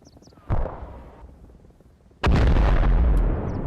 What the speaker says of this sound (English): Pretty sure that's our artillery.